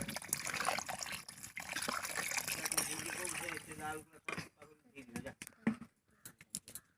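Water pours and splashes into a pan of rohu fish curry with potatoes and spices for several seconds, then stops, leaving scattered clinks and brief sounds while a voice speaks.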